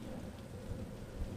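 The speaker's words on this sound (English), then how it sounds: "As you can see, it's overcast and raining." Steady rain falls on an overcast day, a dense even hiss with low rumble throughout and no voices.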